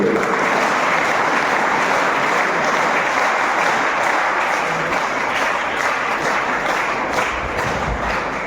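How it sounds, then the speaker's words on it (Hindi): An audience at a public event in Harda district, Madhya Pradesh, gives loud, sustained applause. Dense clapping fills the whole stretch, then tapers slightly at the end, with no speech over it. "इनके लिए भी जोरदार ताली उसी प्रकार बजे जैसे संतोषी के लिए बजी"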